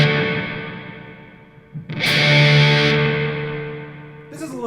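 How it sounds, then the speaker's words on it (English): Electric guitar notes ring out through a heavy reverb pedal, long washy decays swelling and fading, with a bright strummed burst midway and a final pluck. "I'll take these off and just add the reverb so you can get that sort of sound."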